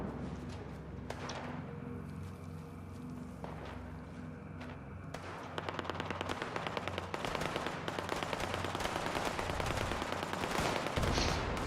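Gunfire aimed at a building in Fallout 76 crackles in quick, rapid bursts that grow denser and louder toward the end, with a few isolated shots and thumps before the steady stream begins.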